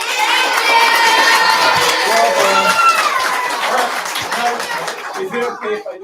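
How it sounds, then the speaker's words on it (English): Loud applause and cheering from a crowd with children's voices at a school district board meeting, shouting and clapping sustained throughout before tapering toward the end. "let's tell them thank you for all they do to support us with a big round of applause"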